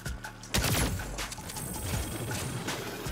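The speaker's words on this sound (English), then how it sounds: "I'm getting them with the sniper right now." A sniper rifle fires in the open-world action game Saints Row (2022), with a loud crack near the start followed by a rattling tail and further softer gunfire over busy game noise.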